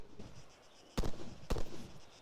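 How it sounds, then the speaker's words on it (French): Gunfire aimed at car tyres in a video game, two loud sharp shots about half a second apart, each with a short rumbling tail, over a soft background hiss. "Tirez sur les pneus."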